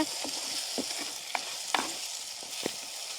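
Tomato, onion and green chilli sautéing in a pan for a village-style country chicken dish, with a steady soft sizzle under repeated scraping and stirring knocks, close by and fairly quiet, no talk.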